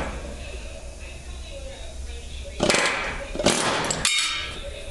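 A pneumatic air hammer fitted with a chisel drives out old door hinge half pins on a 1957 Chevy Bel Air, sounding as two loud, harsh bursts of rapid hammering in a garage with steady background noise between them.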